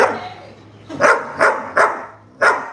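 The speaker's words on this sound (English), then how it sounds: "the Doberman is going to bark at you until you give him something to eat." A Doberman barks four times in a steady rhythm, loud and close, over a faint low hum; no one talks.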